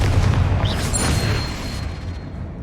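A Bombarda spell explodes in Hogwarts Legacy, a loud, broad boom with a heavy low rumble that rolls off and fades over a couple of seconds.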